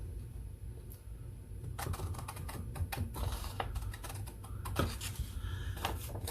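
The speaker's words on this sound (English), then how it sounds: "You're going to cut on that line that you drew," Paper being cut along a pencil-drawn line with scissors to make a handmade journal envelope: a run of crisp, close snips and rustles in quick irregular succession, with no talking.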